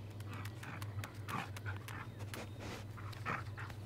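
A dog in the Assassin's Creed Odyssey video game pants in quick, faint, rhythmic breaths over a low steady hum.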